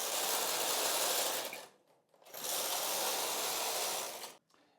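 Brother 260 knitting machine carriage sliding across rows of a Fair Isle hat in two colors, a loud mechanical rushing whir in two long passes separated by a brief pause, with no voices.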